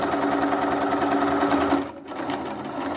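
A sewing machine runs fast and close, a steady rhythmic whirring clatter while stitching a zigzag on a three-layer fabric face mask, with a brief dip near the end before it carries on.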